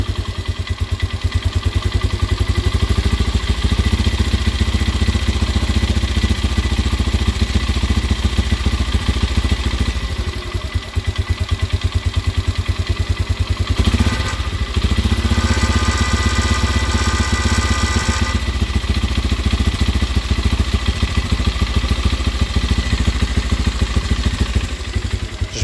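A 2004 Polaris Sportsman 400 ATV engine idling rough after a cold start, loud and close with a steady clattering chug that dips briefly midway, no voices.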